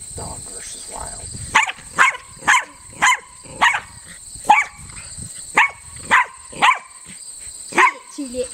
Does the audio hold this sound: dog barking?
yes